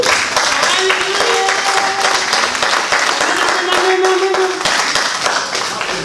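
Church congregation clapping steadily and continuously throughout, dense handclaps with some voices and tonal singing or organ-like notes mixed in.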